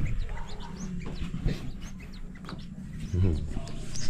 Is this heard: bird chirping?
yes